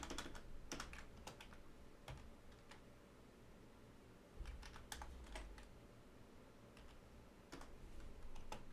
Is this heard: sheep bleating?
no